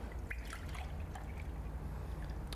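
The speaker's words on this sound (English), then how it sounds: "So you pour the correct amount into the coffee pot," Milk poured into a coffee pot before steaming, a soft close trickle of liquid with faint splashing over low machine hum, quiet and continuous.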